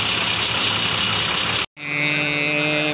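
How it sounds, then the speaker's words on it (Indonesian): Several bus engines idle together at a Rosalia Indah bus station in Palembang before departure, a steady rumbling hum with a brief dropout, then a lower, more tonal engine drone. "Untuk semua bus sudah dihidupkan semua ya, persiapan untuk berangkat."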